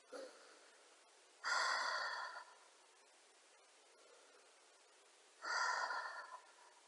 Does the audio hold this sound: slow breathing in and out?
yes